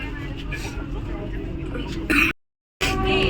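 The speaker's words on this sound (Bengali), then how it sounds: "আমাদের ট্রেন ছেড়ে দিল আর বিভৎস কাশি হচ্ছে" A person on a moving train gives a few short throat-clearing coughs near the end, close and loud over a steady rumble of the carriage, followed by a brief dropout and more rumble.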